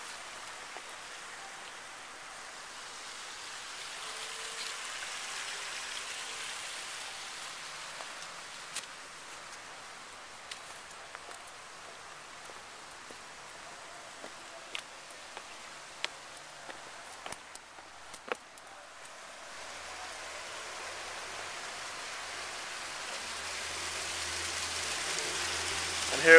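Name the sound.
waterfall cascading over boulders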